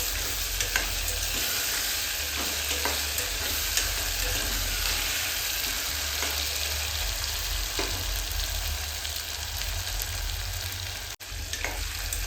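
Potatoes frying in hot oil with asafoetida, a steady close hiss of sizzling that runs unbroken from start to finish.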